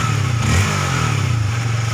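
A motorcycle with a fuel pump fault idles close by, its engine giving a steady throbbing putter with a slight rise in revs early on before settling back.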